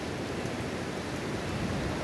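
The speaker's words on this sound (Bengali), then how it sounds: "কন্টিনিউয়াস বৃষ্টি পড়ে যাচ্ছে।" Continuous monsoon rain falls in the Brahmagiri hills near the Kerala border beside the flooding Kaveri in July, an even, moderately quiet hiss with no breaks.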